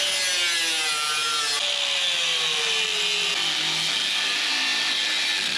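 A power tool cuts through the sheet metal of an old Oliver OC-3 tractor dashboard, a loud, steady, close grinding whine with a shifting pitch that carries on without pause and with no talking.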